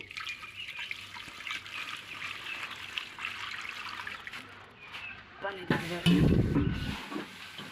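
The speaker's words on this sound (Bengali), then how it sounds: "এবার দিয়ে দিব পানি।" Water poured into a goat feed mixture of chopped fodder and molasses, a faint trickle under a speaking voice that swells into a heavier, splashing pour near the end.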